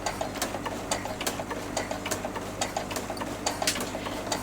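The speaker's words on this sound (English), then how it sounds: "then you can start stitching" A sewing machine fitted with a ruffler foot, set to ruffle every stitch at 2.5 stitch length, runs steadily with a rapid, even mechanical clatter and regular ticking pulses, close and alone.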